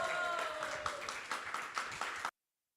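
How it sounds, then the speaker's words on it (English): Audience applause welcoming a speaker at an ISKCON talk, a short burst of clapping from a crowd that swells briefly and then cuts off abruptly, fairly close and moderate in level. "So please give again a big round of applause and welcome Chaitanya Charan Prabhu."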